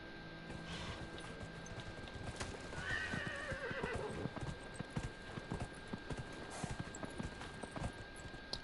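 A horse whinnies in Dragon Age: Inquisition, its neigh rising over steady clip-clopping hooves and a busy ambient bed, with no talking.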